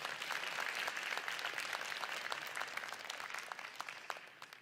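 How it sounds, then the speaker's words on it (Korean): An audience at a regional policy forum gives a round of applause after a governor's presentation. The clapping is dense at first and gradually thins and fades toward the close. "수고하신 박원석 지사에게 큰 박수 부탁드리겠습니다."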